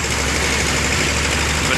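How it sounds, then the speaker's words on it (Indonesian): Several Rosalia Indah buses idle with engines running at a bus ticket office during morning pre-departure checks, a steady low rumbling drone throughout, with a person talking over it. "Jadi suasana di loket dengan bunyi mesin bus semua dihidupin ya."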